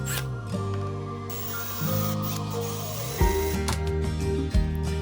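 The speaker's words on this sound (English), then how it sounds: "I am drilling into a square post." A power drill bores into a small square wooden post, whining at a steady pitch with load-dependent pitch drops and a few clunks, alone without talk.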